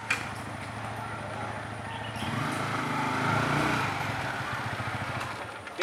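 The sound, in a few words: Yamaha R15 motorcycle engine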